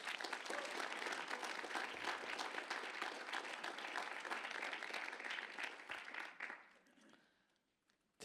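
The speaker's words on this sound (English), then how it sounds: "Could I get another round of applause for all of our 5 speakers?" An audience claps steadily for the five speakers of a lightning-talk session at a conference, with dense, sustained applause that fades out over the final second or two.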